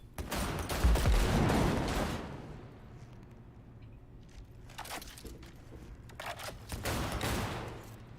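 Bursts of rapid gunfire in Cyberpunk, a dense crackling volley at the start, then quieter scattered shots followed by further clusters of sharp reports later on.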